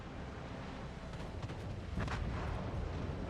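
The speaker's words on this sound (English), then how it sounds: "our fighter groups are coming over here and dropping bombs" Bombs dropped by fighter planes explode in a naval battle video game, a dense continuous rumble of booming blasts with a sharper burst near the middle, loud and sustained with no talk.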